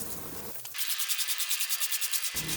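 Steady rhythmic wet sanding across a varnished surface to remove orange-peel texture, close and continuous, with a swishing back-and-forth pulse.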